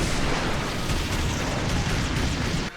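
An explosive palm jutsu attack bursts in the Naruto Shippuden Ultimate Ninja Storm 4 fighting game, a dense, loud, continuous roar of explosion noise that cuts off abruptly near the end.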